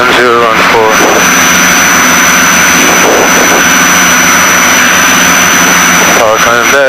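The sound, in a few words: Piper Seneca twin-engine aircraft engines, power reducing on final approach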